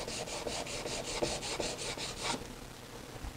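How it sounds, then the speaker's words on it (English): Rhythmic back-and-forth strokes of hand sanding on a car body, wearing the paint down toward bare metal, about a dozen quick, even scrapes close by, then a softer stop. "I want to take it down pretty much to the metal."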